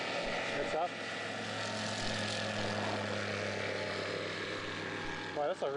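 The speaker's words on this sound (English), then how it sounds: "Wow, that's a real short takeoff." A light sport aircraft making a short takeoff: a steady propeller engine drone heard from the ground, loud and continuous, with brief bursts of radio-like voice at the start and end.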